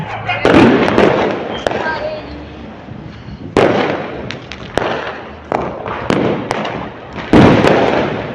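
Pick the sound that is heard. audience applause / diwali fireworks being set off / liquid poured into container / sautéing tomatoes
diwali fireworks being set off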